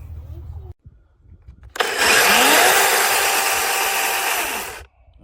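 DEWALT 20V MAX XR 12-inch DCCS620 cordless chainsaw cutting wood outdoors on a property: a loud, steady buzzing cut of about three seconds, preceded by brief quieter handling noise, then the motor winds down.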